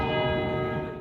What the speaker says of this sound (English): the bells of St. Paul's chimed their special tributes